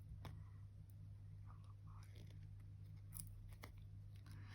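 Scissors snipping a paper cutout of a toy car piece, a few quiet, short cuts and scrapes close by over a steady low hum.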